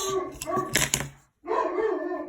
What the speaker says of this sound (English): there's my dogs a-barking